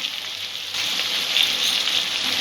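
Spice masala for a bhindi curry frying in a pan over a low flame, giving a close, steady sizzle that grows louder after a brief quieter start, with no one speaking.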